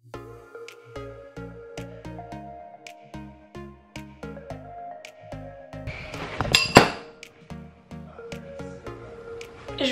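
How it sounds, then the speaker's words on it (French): A lunch container drops and clatters onto the floor, a burst of crashing and clinking amid a run of sharp, ringing taps and clinks nearby. "J'en reviens pas, j'ai échappé mon lunch à terre."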